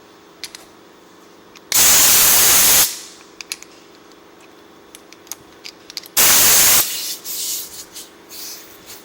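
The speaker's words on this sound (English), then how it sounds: "I have compressed air, so I'm just going to use it." Two loud, harsh bursts of compressed air hiss through the carburetor of a Honda HRX217 lawnmower that sat unused for two years, each blast lasting about a second, separated by quiet with faint clicks.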